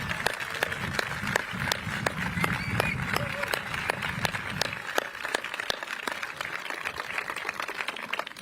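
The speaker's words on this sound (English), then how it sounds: "I would like to give the entire Board of Supervisors under the leadership of Raphael Mandelman, our board president, a round of applause" An audience at a San Francisco State of the City address applauds the Board of Supervisors. The applause is thin and scattered, with sharp individual claps over a low murmur that fades after a few seconds.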